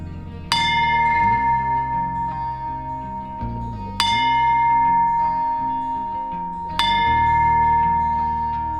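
A bell at Humberstone, Chile, is struck three times at a slow, even pace, each strike a loud, bright clang that rings on and fades under steady low background murmur.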